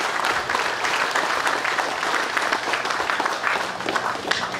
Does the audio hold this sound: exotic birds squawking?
no